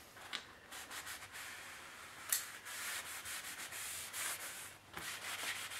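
A towel wipes wood stain off small wooden parts for a 1/14 Tamiya flatbed trailer model, making soft, close rubbing strokes in a steady back-and-forth rhythm, each stroke a brief hissy swish with short pauses between.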